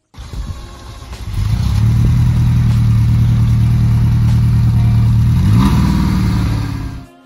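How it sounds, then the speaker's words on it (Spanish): A Ferrari Mondial QV's 240-horsepower V8 cranks briefly, catches and settles into a loud, steady idle, then blips upward near the end before shutting off. "recordemos que tiene un motor V8 de 240 caballos de fuerza"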